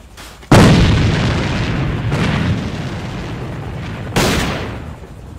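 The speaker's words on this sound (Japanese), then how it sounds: "手榴弾投擲" A thrown grenade detonates in a first-person shooter game, with a loud sharp blast followed by a long rumbling decay, then a second heavy boom near the end.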